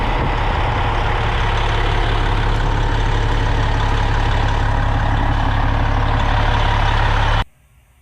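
Heavy diesel bus engines idle at the GIE Expo 2021 trade show in a steady low rumble with a constant drone, then cut off abruptly near the end.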